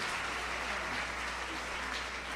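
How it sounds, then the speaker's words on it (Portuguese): A church congregation applauds at an Easter service, a steady wash of clapping from a sizeable crowd heard at a moderate distance, fairly soft and even throughout. "Você pode aplaudir ao Senhor por isso?"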